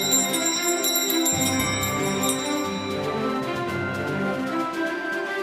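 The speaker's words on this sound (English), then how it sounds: "Alarm bells should be going off just like that all over America right now." A loud alarm bell rings continuously with a bright, metallic clang, staying steady and insistent throughout without any voices.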